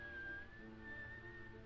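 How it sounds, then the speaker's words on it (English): A man whistles a tune, a single sustained melodic line drifting slowly in pitch, quiet and close with no talking. "Whistling and singing along."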